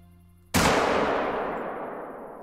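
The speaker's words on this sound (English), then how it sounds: "We're going to try for a shot with a 7mm." A single sharp 7mm hunting rifle shot in theHunter: Call of the Wild, cracking loudly after a quiet moment and trailing off in a long, fading outdoor echo.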